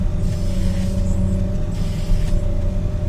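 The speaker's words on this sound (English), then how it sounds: "Driving over these boulders here." A tractor rolls over boulders on a farm field during discing, its engine giving a steady loud low rumble with slight surges and no talk.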